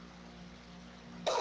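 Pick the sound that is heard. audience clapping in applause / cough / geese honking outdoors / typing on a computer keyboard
cough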